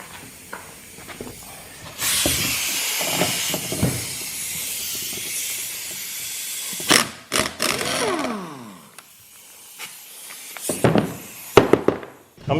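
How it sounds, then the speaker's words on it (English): Pneumatic impact wrench with a 27 mm socket breaking loose the nut on a Kubota hydraulic cylinder shaft, heard as a few sharp, loud bursts of rapid hammering mixed with air hiss, with short pauses between them. "we're going to use the impact wrench to get it off"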